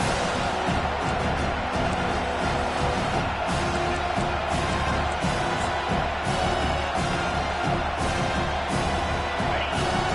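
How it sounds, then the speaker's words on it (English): A football stadium crowd at a Penn State versus UCLA game roars and cheers on third down, a loud, sustained wall of noise with swelling surges, heard without any commentary over it. "Decibels rising as the crowd gets behind this defense on 3rd down."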